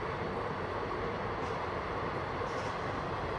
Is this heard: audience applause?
no